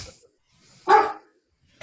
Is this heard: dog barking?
yes